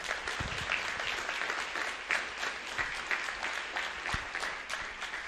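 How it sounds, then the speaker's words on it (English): An audience claps in a sustained round of applause at a police department event, steady dense clapping throughout without a break. "So I want to give a big round of applause to Rebecca"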